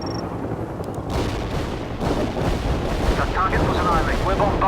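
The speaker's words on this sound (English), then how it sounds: "Heavy artillery firing for effect." Dense, rumbling booms and crackling blasts pile up continuously, heavy and close, a video game barrage of heavy artillery with chaotic battle noise layered on top.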